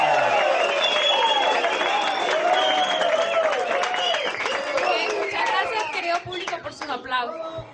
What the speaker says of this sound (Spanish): ¡Venga ese aplauso!